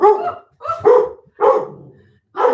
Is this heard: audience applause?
no